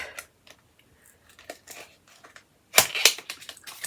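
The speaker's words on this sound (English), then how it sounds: "Just trying to open the box here" Cardboard beauty subscription box being opened by hand, a run of sharp clicks and crinkling tears, quiet at first and then louder, close-up bursts of crackling cardboard and packaging near the end.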